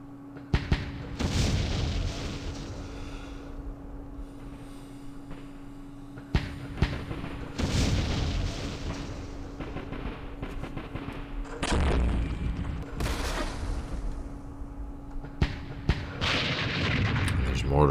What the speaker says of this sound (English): There's more mortars back there.